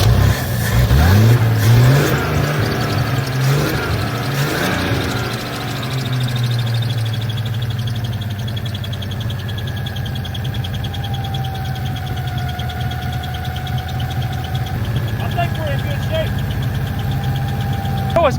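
An old car engine, run on fuel poured into the top of the carburetor, cranks and catches, then idles roughly with a slight knock and a few revs, close by, with someone talking over it.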